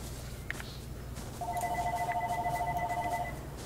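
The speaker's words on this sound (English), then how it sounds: "Your phone is loud." A phone rings loudly in a room during an ARK: Survival Evolved session, a steady electronic ring tone trilling for about two seconds over a low background hum, no talking.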